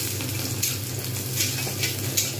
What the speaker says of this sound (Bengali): এবার পেঁয়াজগুলো একটু সুন্দর করে ভেজে নেবো।